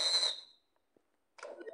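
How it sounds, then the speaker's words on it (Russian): A toy whistle gives two shrill blasts, the first sustained and fading, the second starting after a short silence, both loud and close with no voices. "Потом твой свисток."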